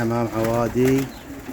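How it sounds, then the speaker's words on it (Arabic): Awadi pigeons, a loft of roughly 25 pairs, coo in short harmonic bursts, close and clear, with a faint voice barely present. "حمام عوادي يا شباب، حول 25 جوز يا شباب"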